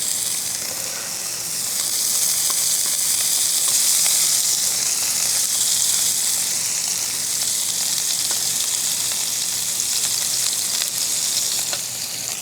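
Ribeye steaks sear in ghee on a Blackstone 20-inch camping griddle, a loud, steady sizzle and hiss that runs unbroken from start to finish with no voices.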